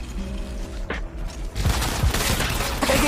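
Gunfire and explosions in the mobile battle royale game Apex Legends Mobile during a squad fight, quieter game sounds at first, then a dense loud burst of shots and impacts filling the second half.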